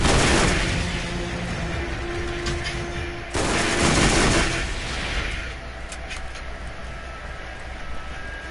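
Automatic Tsunami weapon firing in the video game Borderlands 1, a dense, sustained stream of rapid shots with a sharp burst around the middle before the fire trails off.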